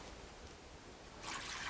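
Faint, steady trickling and dribbling of water in a container, made to imitate rain, a soft continuous wash that swells slightly louder toward the end.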